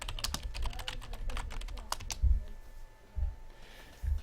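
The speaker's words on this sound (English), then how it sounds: "Type that in there, I guess." Rapid clattering keystrokes on a computer keyboard for about two seconds, then stopping, followed by a few soft low thumps.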